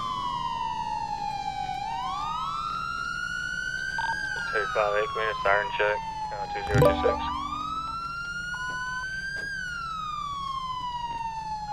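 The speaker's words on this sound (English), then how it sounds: "can we get a siren check?" A police siren in the video game GTA V (FiveM roleplay) wails during a night patrol, rising and falling in long sweeps, with a short stretch of speech and a loud thud partway through.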